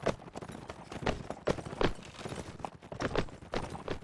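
Cavalry hooves from horse archers in a competitive real-time strategy match, a busy run of quick clip-clop beats rising and falling across the battle, moderately loud with no one talking over them.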